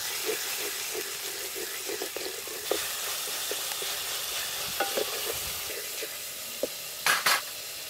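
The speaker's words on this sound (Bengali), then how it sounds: "এবার আমি যে মশলার পেস্টটা তৈরি করে রেখেছিলাম দিয়ে" Spice paste sizzles steadily in a pan of oil with onions and garlic fried until reddish for a Bengali chitol fish muithya, a continuous hiss broken by soft spoon scrapes and a few sharper clinks near the end.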